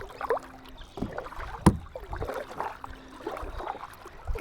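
A kayak paddle dips and pulls through glassy, still water with soft, rhythmic splashes and drips, close by and unhurried, with a faint knock against the hull partway through.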